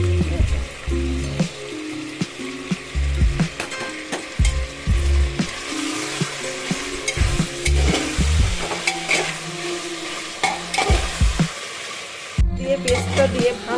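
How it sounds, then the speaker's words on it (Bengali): Ginger garlic paste frying for a mutton dish while being stirred, a sizzling hiss broken by rhythmic knocks and scrapes of the spoon against the pot, close and fairly loud. "দিয়ে পেস্টটা দিয়ে ভালো করে আমি নেড়ে নিয়েছি, ঠিক আছে।"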